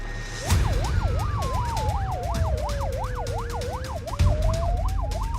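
A wailing ambulance siren sweeps rapidly up and down, loud and close, with a second slower tone gliding beneath and traffic rumble underneath.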